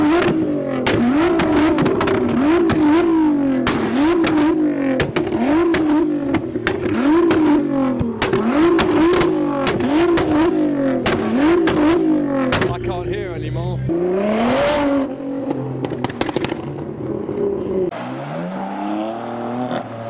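A Toyota Supra at a JDM car meet revs loudly over and over, its engine climbing and falling in quick bursts, while people talk nearby.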